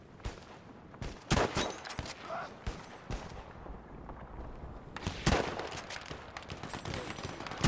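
Battlefield V gunfire crackles in sharp, repeated bursts, rapid volleys and scattered single shots at mid distance, with game noise filling the gaps between them.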